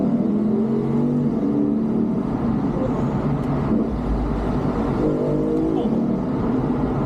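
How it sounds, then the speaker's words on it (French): A Lexus IS-F V8 engine rumbles and revs nearby, a deep continuous throaty roar with rising surges, mixed with background noise. "Puis le bruit, c'est un V8, tu le reconnais."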